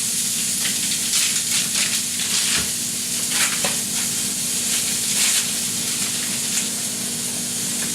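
Buns frying alongside a burger patty in a skillet for a pepperjack cheeseburger give a steady, close sizzle and hiss with occasional brighter crackling bursts, continuous throughout and no talking.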